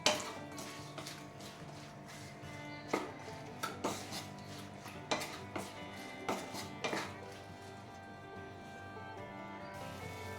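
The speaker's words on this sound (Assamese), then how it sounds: "গোটেইখিনি আকৌ ভালদৰে লৰাই দিছোঁ।" A spoon stirs a pot of vegetable dish with chilli powder, knocking and scraping the metal in about a dozen irregular, close clinks over a quiet background, with no talking.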